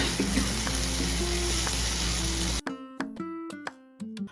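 A pan of crab masala with tomatoes, home-style Kerala crab roast, hisses with a dense, steady sizzle that suddenly drops away, followed by sharp metallic scrapes and knocks of a spoon stirring.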